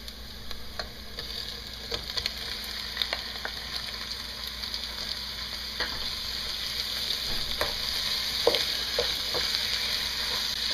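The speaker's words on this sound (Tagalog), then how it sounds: "Lulutuin lang natin tong pork for a few minutes." Pork sizzles steadily in a pan with softened onions, a continuous loud frying hiss broken by scattered clicks and scrapes of stirring, no one speaking.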